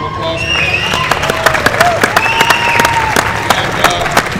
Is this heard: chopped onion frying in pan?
no